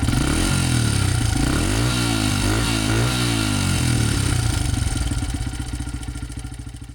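A $300 secondhand Honda dirt bike engine runs loud and close, revving up and down with clattering mechanical noise before settling into a choppy idle that slowly fades, with no talking.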